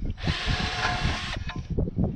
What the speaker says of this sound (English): Step one, let's drill a hole.